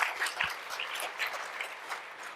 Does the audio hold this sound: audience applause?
yes